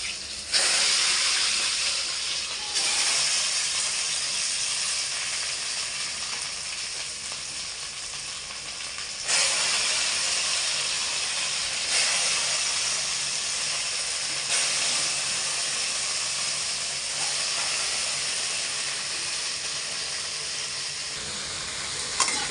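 Taro pieces frying in a pan with salt and turmeric give a steady, loud sizzle and hiss across the whole span, with a few stirring scrapes and brief surges in intensity; no voices.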